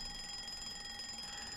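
An alarm clock in the Roblox game Pokemon Brick Bronze gives a continuous high electronic ring, steady and fairly faint, holding an even buzzing tone from start to end.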